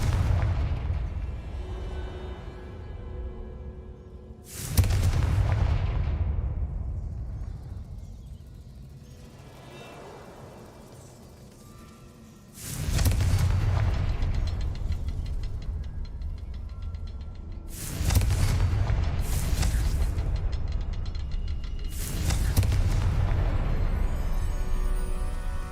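Blasting spell explosions in Hogwarts Legacy go off as a series of loud booms, four or five sharp blasts spread across the span, each decaying into a rumbling tail over low ambient game noise.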